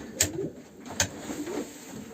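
Pigeons from breeding pairs of Fabry, Ardennes and Janssen lines coo in a loft, a few low throaty warbles rising and falling with a couple of sharp clicks, close by and moderately loud.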